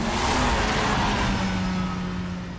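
A video game car engine roars loudly at high revs, a dense, sustained whine that eases off slightly toward the end.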